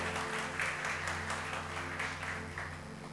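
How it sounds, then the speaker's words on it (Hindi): A small congregation at a church gathering claps to welcome a newcomer, giving moderate, fairly faint applause over a low background hum that tapers off near the end. "हम ताली बजा के उनका स्वागत करें"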